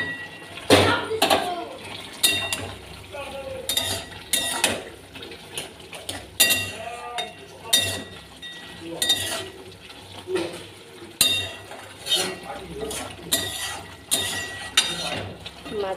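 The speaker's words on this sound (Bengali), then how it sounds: "এবার আমি মাছটা দিয়ে দিই।" Fish dropped into boiling broth in a cooking pot, with repeated clinks and scrapes of utensils against the pot in irregular bursts close by, over a low simmering background and occasional faint voice sounds.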